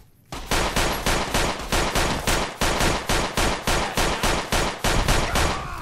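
Rapid automatic gunfire in a video game, a long close burst of evenly spaced loud shots repeating about three times a second without pause, and no voices.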